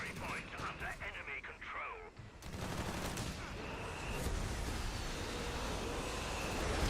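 Machine gun fire rattles through a strategy video game during a live tournament match, starting after a brief stretch of voice-like sound and then holding as dense, steady bursts of gunfire and battle noise.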